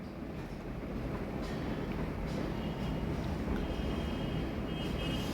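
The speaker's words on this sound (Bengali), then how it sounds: "ওই দেখো এটা হইল কি দক্ষিণেশ্বর মেট্রো স্টেশন" A train rumbles through Dakshineswar metro station, a steady, fairly loud low roar filling the platform without a break, with no talk over it.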